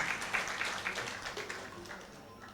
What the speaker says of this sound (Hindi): भैया के लिए भी एक बार जोरदार ताली बजाएंगे